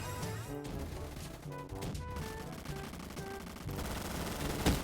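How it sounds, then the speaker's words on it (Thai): Rapid gunfire from several players in the Roblox game Gunfight Arena, dense overlapping bursts layered over game music and effects, steady and loud throughout with a sharp hit near the end. "โดนลุมยิงห้าคน"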